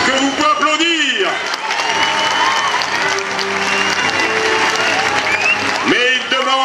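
An audience claps and cheers for a knight at a historical reenactment show in Salon-de-Provence, with sustained applause under an announcer's voice over a loudspeaker.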